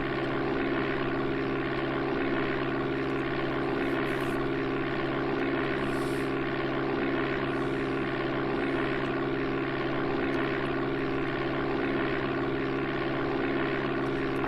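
Steady propeller-aircraft engine drone in Amiga Flight Simulator II as the plane takes off down the runway, loud and continuous with a constant pitch and no voices.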